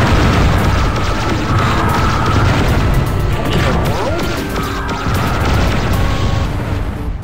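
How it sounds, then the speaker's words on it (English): Loud, continuous booms and crashes of homing missiles exploding inside a mine corridor in the shooter game Descent, layered with rumbling engine hum and weapon fire. "I gotta try to homing missile those guys"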